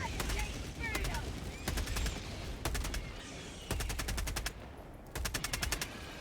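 Bursts of rapid automatic gunfire from the video game Helldivers 2, several volleys of sharp repeated shots separated by short pauses, loud and close, with someone talking in between.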